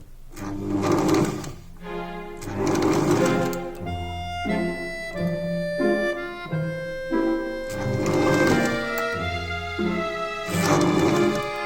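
A sewing machine stitches a sleeve into a retro dress, running in repeated loud bursts of whirring stitching with brief pauses between, close to the microphone and with no talking.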